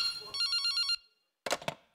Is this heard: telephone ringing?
yes